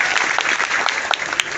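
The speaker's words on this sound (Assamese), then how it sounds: "আজিৰ পৰা হাত চাপৰি পিতৃ মাতৃৰ বাবে" Brief applause from an audience, a dense burst of many hands clapping close by for a moment, with no talk over it.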